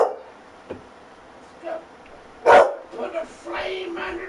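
A dog gives a few short barks and yips during a live PS4 broadcast, one louder bark among scattered quieter ones, mixed with a voice speaking.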